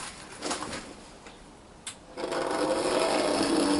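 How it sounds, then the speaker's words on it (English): An old motor in a kit-built GWR Taff Vale U1 class model tank locomotive whirs on the track, a steady close mechanical hum that grows louder and more constant after a brief knock. "Yes, I know the motor is noisy, because it is old mechanism."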